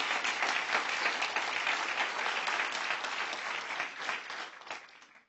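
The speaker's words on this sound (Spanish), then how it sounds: "Si va a aplaudir, aplauda." A church congregation bursts into sustained applause during a sermon on breaking the yoke of poverty, dense steady clapping filling the space before tapering off near the end.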